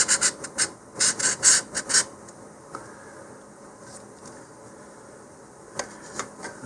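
Hand sanding of a model rocket body tube, a quick burst of raspy scratchy rubbing strokes up close, then quieter scattered scrapes and pauses.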